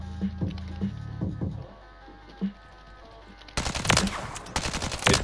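Gunfire on a firing range in a Call of Duty game: a string of rapid automatic shots and scattered single reports, quieter and sparse at first, then a louder, denser burst.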